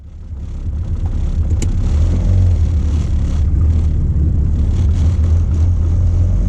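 A car driving on the road after its worn gear linkage has been swapped for uprated solid linkages, giving a steady loud low engine rumble that rises as it pulls away and then holds, with no talking.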